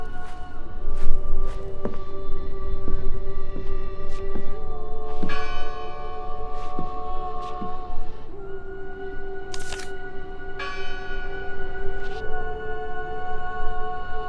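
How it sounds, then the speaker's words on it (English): Church bell ringing in the game Draugen, several resonant clangs at irregular intervals with long ringing tails, fairly close and clear over a soft rustling background. "Listen! The bell! They're still in there!"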